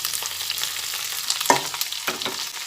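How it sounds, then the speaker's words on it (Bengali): Cooked rice tipped into a hot pan for fried rice gives a close, steady sizzle, with a couple of sharp scraping stirs partway through. "এক এক করে ভাতটা এর মধ্যে ঢেলে দিচ্ছি"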